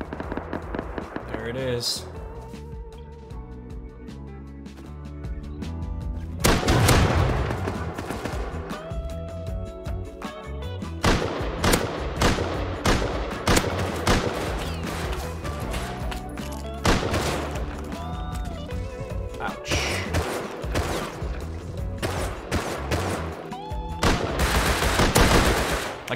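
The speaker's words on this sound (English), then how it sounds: "I heard some shots nearby." Nearby gunfire in the survival video game Rust, with bursts of sharp shots scattered across the scene under someone speaking, amid game sounds and music.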